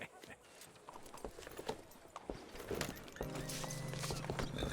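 Horse hooves clip-clopping in Red Dead Redemption 2, a steady walking rhythm of close hoof strikes under a soft game ambience, with a sustained tonal drone joining partway through.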